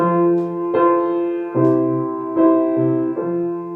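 A keyboard plays a sequence of sustained chords, including an inversion with C on top, changing roughly every second, with clear ringing tones and no voices.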